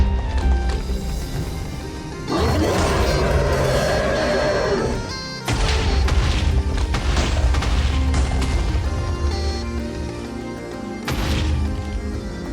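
Booming mine blasts from the Cursed Minefield mod in Minecraft, loud and dense, in two or three sustained bursts with crashing impacts over a steady music-like bed.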